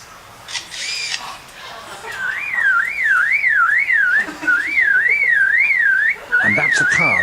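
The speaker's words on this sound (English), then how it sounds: "And that's a car alarm." A car alarm wails in a rising and falling warble, repeating in three bursts with short breaks, loud and close, preceded by a few clicks.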